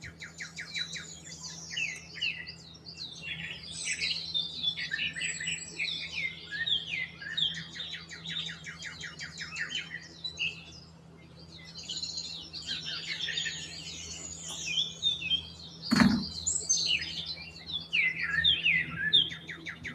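Birds chirping and tweeting outdoors in a steady, busy chorus of overlapping calls at moderate distance, with a brief thump partway through and a low hum underneath.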